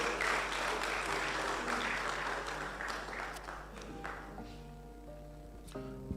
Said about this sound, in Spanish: ¿Cuánto le dan aplauso al Señor por eso?